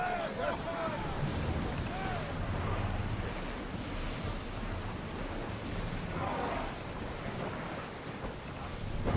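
A ship in Assassin's Creed Odyssey cuts across the sea, with a steady wash of waves and rushing wind filling the scene, and a few faint creaks and calls surfacing briefly over the surf.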